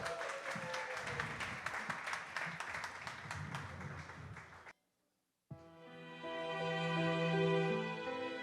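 An audience at a ministry art gallery gala claps for a singer, a dense burst of applause lasting several seconds before a brief cut to silence, after which sustained musical tones begin.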